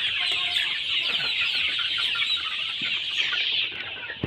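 Broiler chickens, forty-one days old, cluck continuously in their coop at dusk, a dense chorus of overlapping clucks close by with no pause.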